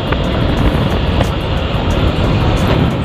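A BMW G310RR motorcycle with a 310 cc engine drives along the road, its engine drone blending with a loud, constant roar of wind rush throughout.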